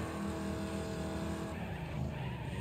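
Race cars dueling for the lead in Wreckfest roar with dense, sustained engine noise, layered with tire skids and squeal, loud and continuous without any talk.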